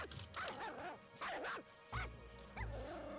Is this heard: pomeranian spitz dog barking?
yes